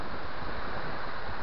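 Wind-driven waves wash against the beach at Backa Topola lake, with foam along the shore. A steady, close rush of surf and gusting wind noise fills the whole stretch, with no voices.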